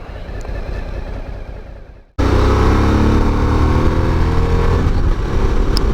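A Suzuki V-Strom 1000 adventure motorcycle on the road, a loud steady engine drone with rushing wind noise that drops away briefly, then returns at full strength and holds.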